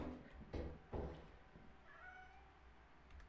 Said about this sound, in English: There's another cat somewhere.